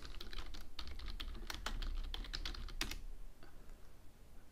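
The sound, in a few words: typing a keyword on a computer keyboard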